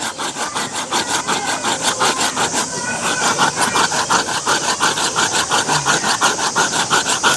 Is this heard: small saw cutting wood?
yes